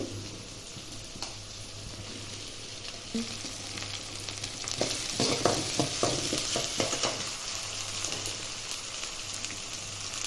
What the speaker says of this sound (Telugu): వేసి బాగా వేగనిద్దాము ఇందులోనే కొద్దిగా అల్లం పేస్టు